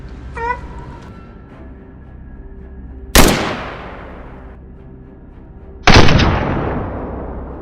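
Two sharp rifle shots ring out at a wild boar hunt across a forest field, one about three seconds in and another near six, each a loud crack trailing into a long echoing decay, with a faint animal call early on.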